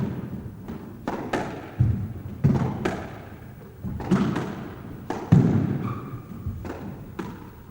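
A squash ball struck during a squash match thuds off racket and walls in a series of irregular, moderately loud hits, with faint court ambience between shots.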